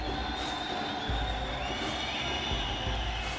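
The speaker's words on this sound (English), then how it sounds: "You can hear the crowd here in support of Ghorabi." A crowd at a Muay Thai fight cheers in support of fighter Ghorabi, a dense, steady roar of voices with no single voice standing out.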